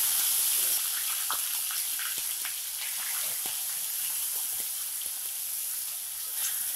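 Grated onion dropped into hot oil crackles and sizzles, a dense hiss with scattered sharp pops continuing steadily at close range with no voices.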